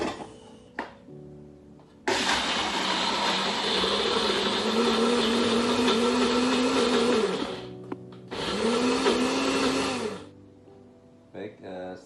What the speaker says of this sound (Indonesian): Kita blender lagi ya kawan-kawan ya